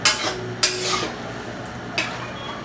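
Carrot halwa being stirred in a metal pan, a utensil scraping and clinking against the pan in three distinct bursts at the start, just after half a second and near two seconds, with quieter scraping between and no voices.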